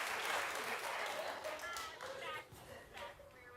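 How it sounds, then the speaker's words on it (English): A studio audience at a television talk show claps and cheers, dense applause that is loudest at first and gradually thins out, with voices mixed in. "You guys keep the claps going"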